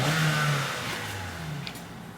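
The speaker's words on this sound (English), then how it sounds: "The homie in the fucking Honda Fit revving in that shit." A Honda Fit engine revs up nearby and then settles, a loud rising drone easing down into a steady mid-pitched hum.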